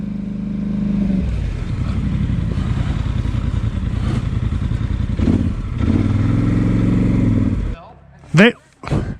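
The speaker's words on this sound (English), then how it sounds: "I kept this segment in just to listen to this engine at low idle reversing" A Polaris Sportsman ATV engine idles low while reversing on a winter trail, a steady close rumble with some clatter for most of the clip, then cutting off before brief voices.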